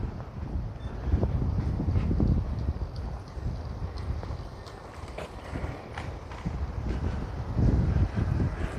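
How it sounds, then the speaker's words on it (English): Gusty wind buffets the microphone with low rumbling blasts while plane spotting in Chofu, Tokyo, rising and falling in strength throughout, loud and close with no speech. "can you guys hear the wind?"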